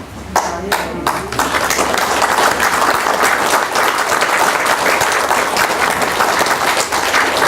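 After a few separate claps, an audience at a Buddhist Dharma talk and Q&A session breaks into sustained, even applause that continues steadily to the end.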